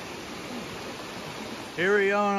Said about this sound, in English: Here we are on top of this waterfall